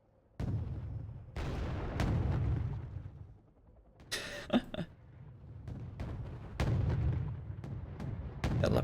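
Artillery fire in the real-time strategy game Wargame AirLand Battle, during a tank battle with T-80U, T-72A and Leopard 2 tanks: a series of loud, booming gunshots repeats every second or so, with a brief crackling burst partway through.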